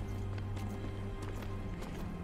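Horse hooves clip-clop in the action video game Darksiders Genesis as quick, repeated thuds over a constant low game hum, fairly close and moderately loud.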